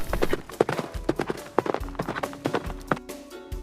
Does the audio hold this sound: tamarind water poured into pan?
no